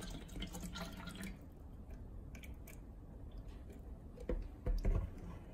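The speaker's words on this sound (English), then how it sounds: "Let's pour some water in." Bottled water is poured into a container for testing, heard as a faint, brief trickle followed by scattered quiet drips and small splashes in a hushed room.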